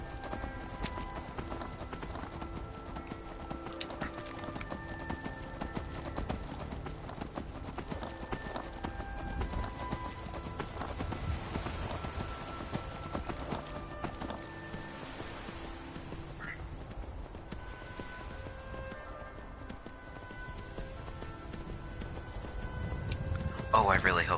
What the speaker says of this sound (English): Escaping a dragon with a horse.